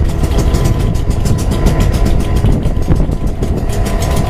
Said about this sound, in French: Présentement, le moteur est démarré.